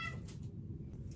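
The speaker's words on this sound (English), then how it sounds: "Hello, kitten." A kitten meows indoors, with faint high calls rising over a steady low background hum, close to the microphone and brief.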